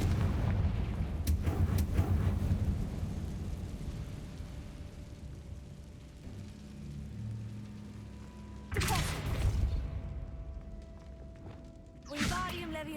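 In Hogwarts Legacy, Confringo spell explosions burst loudly, a heavy blast near the start trailing into rumbling debris, followed by two more sharp impacts later, with faint game ambience between.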